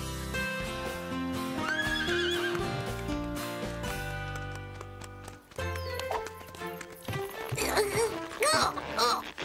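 Cartoon horses gallop with quick clip-clop hooves and sharp neighs and whinnies over a busy music score, growing louder and more frantic toward the end.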